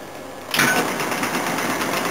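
An old belt-driven condensing unit compressor with a worn belt starts up halfway in, then runs steadily with a bright, whirring mechanical drone close by, no voices over it.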